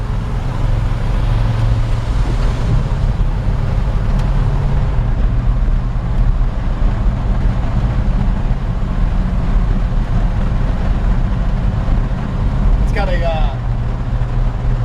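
A 1954 Ford F100 pickup with a small-block Chevy 350 V8 driving along, a steady low engine drone and road rumble filling the cab, loud and continuous, with someone talking over it.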